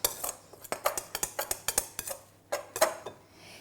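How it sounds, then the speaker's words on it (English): A knife mixes egg into tart pastry in a bowl, with a quick series of sharp metallic clinks and taps against the dish, irregular but steady, close and fairly loud. "get a knife and then just mix that egg in with the knife"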